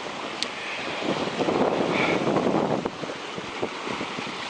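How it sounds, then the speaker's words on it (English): Wind at sea rushes and buffets steadily around a sailboat under rain-laden clouds, loud broadband roaring with gusting swells, no voices. "The winds increased again with those clouds behind us with some rain in them."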